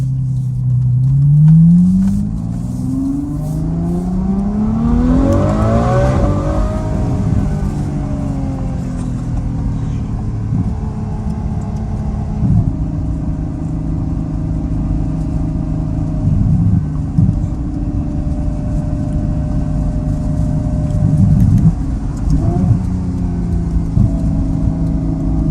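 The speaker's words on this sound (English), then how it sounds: "but this car definitely burbles" A Ferrari F12 Berlinetta V12 fitted with a Valvetronic Fi exhaust revs up loudly close by, then settles into a deep, rumbling idle with irregular burbles and pops over the long steady drone.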